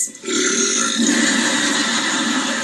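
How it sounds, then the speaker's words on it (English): A drawn-out stress belch rumbles on for over two seconds after a short pause, loud and close, with no talking over it. "Did you just stress belch?"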